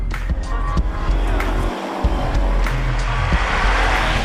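Subaru BRZ sports car engine revving up and dropping while driving, heard from inside with road noise and a brief gap in the low rumble; no talking.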